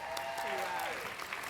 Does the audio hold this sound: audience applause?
yes